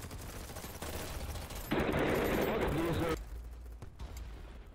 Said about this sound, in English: I shot that dude in the head like 5 times